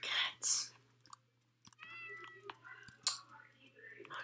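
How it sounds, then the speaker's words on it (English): Cats meow in a shop in the video game Rakuen, with several short mews and chirps scattered over a quiet low hum, mixed with faint clicks. "These are cats."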